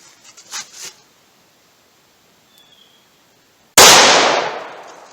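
A single .32 H&R Magnum or .38 Special revolver fires one loud, sharp shot outdoors with a ringing, fading tail, after faint rustling and near silence.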